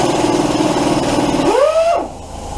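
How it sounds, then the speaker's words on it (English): An air impact wrench hooked up for a 2005 Subaru head gasket job whirs steadily at close range, then its pitch falls away as it winds down, and a quieter hiss follows. "Alright, I got the impact hooked up."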